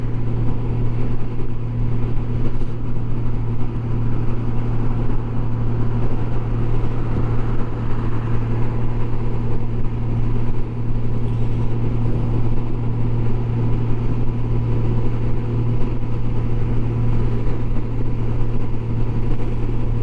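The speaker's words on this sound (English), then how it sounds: "Wind is still whipping" Strong wind roaring and buffeting around a motorcycle as it rides, a steady, loud, unbroken low rumble that lasts throughout, with no voices.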